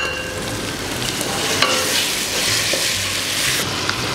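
Eggplant stew with tomato, crayfish and scotch bonnet pepper sizzling steadily in a pot as a spoon stirs it, a continuous close frying hiss with faint scraping.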